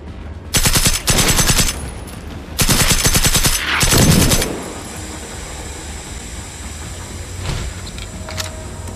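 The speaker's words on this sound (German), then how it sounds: "Ah, ich werde beschossen." Automatic gunfire in the video game Generation Zero, with loud, dense bursts near the start and another long burst around the middle, followed by a quieter stretch with a faint distant shot or two.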